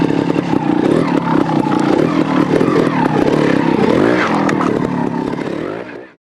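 A classic Honda TLR trials motorcycle engine runs warm with a loud, close, uneven single-cylinder putter and blips of revving before cutting off at the end.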